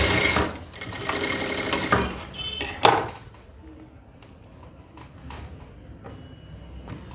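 A sewing machine runs in bursts while stitching the armhole of a blouse, with a loud clatter at first, a sharp knock near the three-second mark, then quieter intermittent machine noise.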